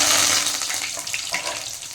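Curry leaves dropped into hot oil with cumin and mustard seeds hiss and sizzle loudly and steadily for two seconds, a broad crackling frying sound close up with no talking.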